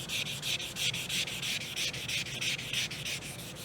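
Hand sanding with 600 grit sandpaper over filler on a clear coat makes a steady, rhythmic back-and-forth rasp, close and alone, with quick regular strokes throughout.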